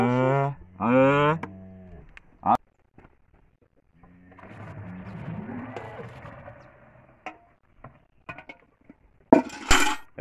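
A cow with her nearly grown calf nearby gives two long, loud moos at the start, then soft rustling and a faint low bellow follow, with scattered clinks and short bursts of noise later.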